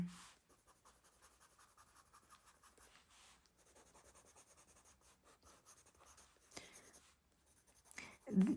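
Pencil or charcoal scratching across paper during a quick portrait sketch, with steady hatching strokes that run continuously, pause briefly and then resume, close and fairly soft, with no talk.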